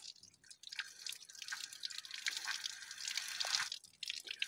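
Water drips and splashes from a mountain tap in Romania used for hand washing, a close, busy patter of drops and small trickles running continuously with no speech over it.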